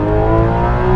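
A Porsche GT3 RS engine screams at high revs toward 9,000 RPM, a loud, sustained, close metallic wail with strong steady harmonics held for a brief moment.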